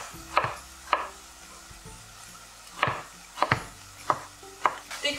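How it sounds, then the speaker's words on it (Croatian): A knife chopping tomato on a board, with sharp, close cuts in an uneven rhythm of about eight strokes and a faint sizzle from a pan of peppers and onion beneath, with no talking. "Znači idemo narezati rajčicu"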